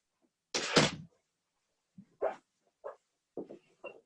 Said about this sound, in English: I'm going to close my office door really quickly